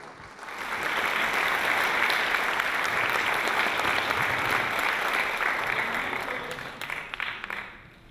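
Concert audience at a James Bond salute applauding an alto saxophonist, a sustained, dense round of clapping that swells quickly, holds steady, then thins out near the end.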